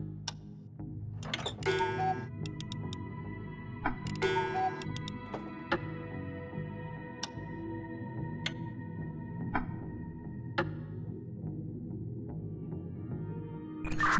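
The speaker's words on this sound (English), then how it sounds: "Let me listen to the ticking" A cuckoo clock ticks at a steady, regular pace, with a few louder clicks and chimes early on over a constant low indoor hum.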